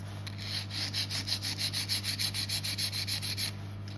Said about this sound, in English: Making sure that file is completely flat and you're pulling straight off